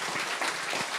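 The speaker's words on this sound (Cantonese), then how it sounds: "多謝上帝，俾掌聲上帝。" A church prayer-meeting audience applauds briefly. Soft, continuous clapping from many hands is heard at a moderate distance, with no voices over it.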